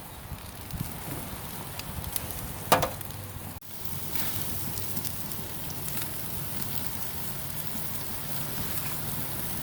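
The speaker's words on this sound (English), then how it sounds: "We got a grease fire on top of our griddle that's giving us a nice effect." A bacon-wrapped ribeye sizzles on a griddle over a grease fire at 750 degrees, giving a dense, steady crackling hiss throughout with a few louder pops and one brief dip partway through.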